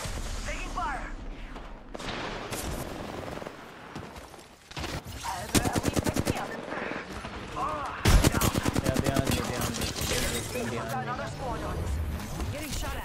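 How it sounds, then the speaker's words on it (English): Bursts of rapid automatic gunfire in Apex Legends, loud and close, with several sustained volleys and single shots amid impacts and game effects, while a player talks over part of it. "Getting shot at."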